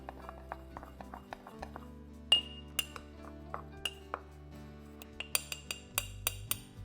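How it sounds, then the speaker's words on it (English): The tip of a spoon stirs overnight oats in a glass, giving a series of light, close clinks against the glass in an uneven rhythm, growing quicker and brighter toward the end. "just take the tip of a spoon and kind of stir everything"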